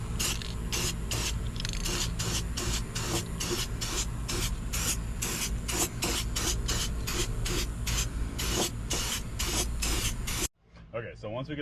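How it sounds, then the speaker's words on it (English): A spray paint can hisses in quick, rhythmic bursts over a metal bracket on a Ford Bronco frame, close and loud for about ten seconds before stopping. "Then we'll put some spray paint on it, let it dry for a little bit"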